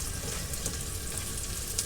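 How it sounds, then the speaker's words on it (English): Diced chicken fries in a pan in a tiny kitchen, giving a close, continuous sizzle with crackling pops and occasional stirring scrapes. "Been frying these lovely."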